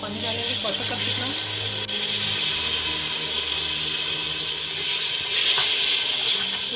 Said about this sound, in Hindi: थोड़ा सा पानी डालेंगे 1/4 कप जितना।